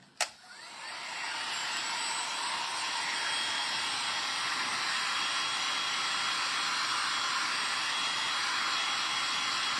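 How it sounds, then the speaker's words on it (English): A heat tool blowing hot air while crafting a gingerbread double-sided trivet, starting with a sharp click and then rising into a steady, even whooshing roar that holds for several seconds, close and fairly loud. "I like this new heat tool"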